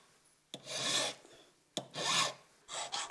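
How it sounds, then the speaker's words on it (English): Metal file rasping along the edges of a champlevé enamel piece: three separate close, steady filing strokes, each about half a second to a second long, with short pauses between. "This is filing the edges."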